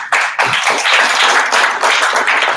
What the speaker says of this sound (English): y'all make some applause for Yami